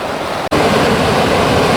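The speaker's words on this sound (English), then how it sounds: "this is where that water goes tumbling down" Minnehaha Falls waterfall in Minneapolis roars as water tumbles down in a loud, steady broadband rush, broken by a brief dropout near the start.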